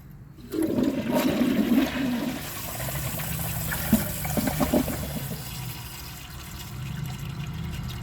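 A 2012 Jacuzzi Perfecta toilet flushes with its handle held down, a loud surging rush of water that settles into a steady, softer swirl and refill trickle, close by with no talking.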